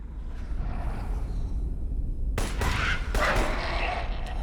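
Semi-automatic gunfire in the video game Crysis: a few sharp shots spaced apart in the second half, heard over a steady low game rumble with no voices.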